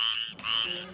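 A steady run of croaking calls from a bullfrog, fairly close, with a brief dip partway through before the calls resume.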